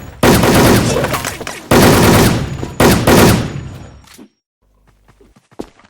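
Rapid bursts of gunfire from a video game clan war come in three loud, sustained volleys, followed by quieter scattered shots and a short low tone as the action fades.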